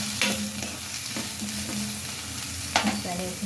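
Onions frying in a pan for a potato eggplant curry hiss and sizzle steadily up close, with a few sharp scrapes and stirring clinks of a spoon against the pan.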